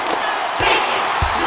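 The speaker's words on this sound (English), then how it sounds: "crowd is going crazy," Video game basketball crowd from a College Hoops 2K5 college matchup, roaring loudly and steadily throughout with sharp thumping bursts like a ball bounce or slam.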